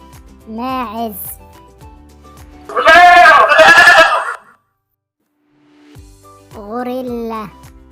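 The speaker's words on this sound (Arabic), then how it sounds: "ماعز." A goat bleats several times: a short wavering cry, a louder, longer and harsher bleat in the middle, and another wavering call after a brief silence, all close and clear.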